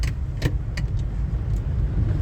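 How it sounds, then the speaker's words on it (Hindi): A car travels along a broken, potholed road in Bihar, its engine a low steady rumble with a few brief rattling knocks and clatters as it moves. "देखिए सामने एक गाड़ी जा रही है"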